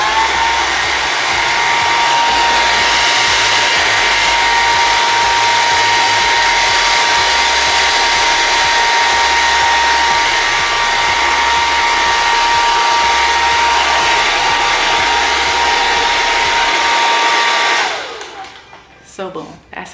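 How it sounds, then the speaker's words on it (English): A blow dryer runs steadily at close range for about eighteen seconds with a constant whirring roar and a faint high whine, then cuts off abruptly, leaving near silence. "You could just buy a separate pick and then just blow dry, pick your hair out while you blow drying."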